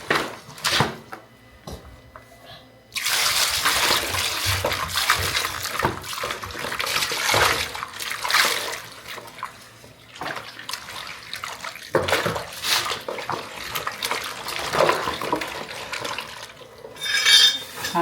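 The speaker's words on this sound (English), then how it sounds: "So now I want to use alum to wash it like this." Water sloshes and splashes as jumbo snail shells are washed with alum in a basin, with bursts of stirring and scrubbing broken by short quiet pauses.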